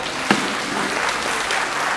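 Loud applause from a crowd of Sai devotees at a gathering in Shirdi, a dense, steady wash of clapping with one sharp clap near the start, continuing evenly for two seconds without talk.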